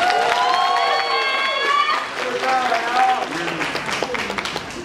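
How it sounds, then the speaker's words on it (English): Applause for kindergarten scholars at a promotion ceremony, clapping from a crowd mixed with children's voices and cheering shouts, with people talking throughout. "give our scholars a round of applause"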